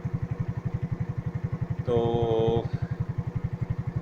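A motorcycle with its air filter removed labors up a steep, winding mountain road of sharp uphill U-turns, its engine pulsing in a steady, rapid thump close by, with a short burst of a higher tone partway through.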